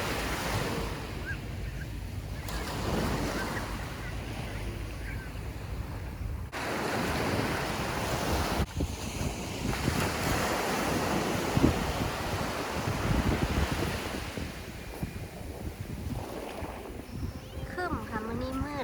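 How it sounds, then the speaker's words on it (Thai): Wind and sea waves on a beach in Kanagawa, Japan, a steady wash of surf with gusty wind noise buffeting the microphone throughout, and a voice speaking briefly over it. "ค่อยมีลมค่ะน้ำยังนิ่งอยู่"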